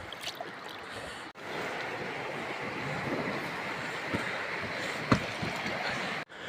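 A canoe is paddled along a river near a small waterfall, with steady rushing water and soft splashes of the paddle, close and continuous, with no voices.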